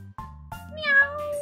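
A cat meows clearly and up close, a few drawn-out, rising and falling cries in quick succession with no talking.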